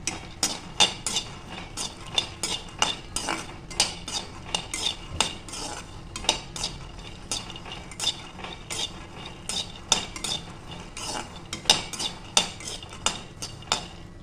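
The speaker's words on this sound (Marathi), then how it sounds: "कडायचंच खडखड येतोय" A metal kadhai rattles and clanks steadily as a spoon stirs and dry-roasts ingredients for a sweet, with quick irregular scraping and knocking strikes continuing throughout at moderate volume, no talk.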